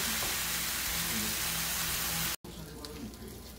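Turkey bacon sizzles on a griddle in a steady, dense crackle that cuts off briefly and then resumes more quietly, with a voice talking over it.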